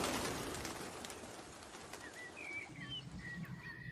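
Pigeons coo and call outdoors amid a broad, noisy wash that suggests wings flapping as the birds are startled into flight, with short chirping calls rising toward the end.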